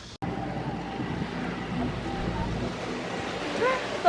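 Ocean waves wash steadily onto a beach under constant wind, a close, full rushing surf with wind buffeting the microphone and no clear talk.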